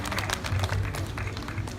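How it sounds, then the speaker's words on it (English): An audience at a sea lion show applauds, a dense wash of clapping from a crowd, steady and moderately loud for the whole short stretch. "Let's give her a great big round of applause."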